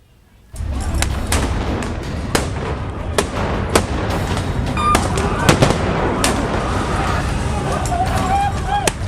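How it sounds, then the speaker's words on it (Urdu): Explosions from Israeli air strikes in Gaza come as a rapid, irregular series of sharp, loud blasts and cracks over a constant rumbling, noisy backdrop. "غزہ آج بھی دھماکوں سے دہل اٹھا۔"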